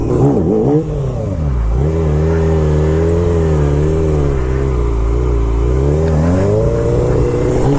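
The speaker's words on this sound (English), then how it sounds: "Doing some handbrake work now, trying some clutch bump stuff, seat stander." A car doing handbrake turns and clutch kicks on a lot, its engine loud and close, revving continuously in rising and falling surges with a few sharp dips throughout.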